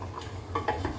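Pork being stirred in a pan, with a low continuous sizzle and a couple of close scraping clinks of a utensil against the pan over about a second.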